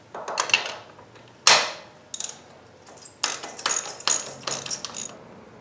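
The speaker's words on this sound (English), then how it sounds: "using my spark plug socket, I'm going to remove the plug" A spark plug socket on a ratchet loosens and removes a spark plug, with scattered clicks of the pawl and metallic knocks, close and fairly quiet, with irregular pauses between bursts.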